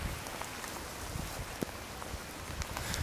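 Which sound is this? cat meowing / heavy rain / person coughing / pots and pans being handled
heavy rain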